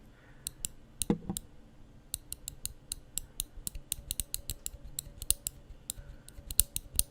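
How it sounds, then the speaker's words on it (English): The loose pocket clip on a folding knife clicks in a quick, irregular series of sharp metallic ticks held close, fairly quiet with a faint hum beneath. "what you get is one of my least favorite things on a knife, which is a clicky clip"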